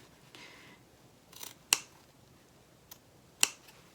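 Scissors cut into the fabric lining at the corners of a zipper pocket opening on a satchel, close to the stitching: two sharp, crisp snips and a fainter one, close and quiet, with no talk.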